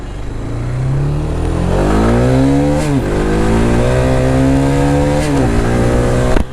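Mahindra Mojo BSVI touring motorcycle pulling away on a ride, its engine note climbing through loud, steady revs with audible gear changes near the three- and five-second marks, close and continuous with no talking.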